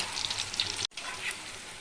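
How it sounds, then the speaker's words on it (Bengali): Chicken pakoras frying in oil over a medium flame give a steady, close crackling sizzle, broken by a brief silent gap in the middle as they are turned. "এবারে মিডিয়াম ফ্লেমে রেখে চিকেন পকোড়াগুলোকে আমি ভেজে নেবো"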